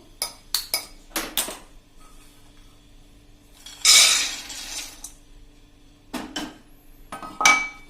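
Raw peanuts poured into a pan on a gas stove, heard as a few sharp clinks and rattles, one louder scattering burst, then more light metallic taps in a quiet kitchen.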